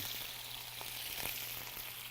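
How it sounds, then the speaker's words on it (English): Steady sizzling and crackling of chicken frying in a hot pan, close by, with a faint stir or two. "Already a good sizzle going on that."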